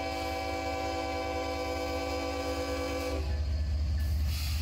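Train sounding a sustained multi-note horn for several seconds before it cuts off and a heavy rumble of passing rail cars takes over.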